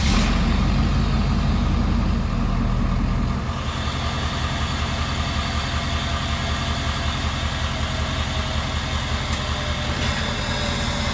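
Ford 6.7 Power Stroke diesel truck idling nearby, a steady low rumbling drone with a constant mechanical clatter, shifting slightly in tone partway through as it keeps running without voices.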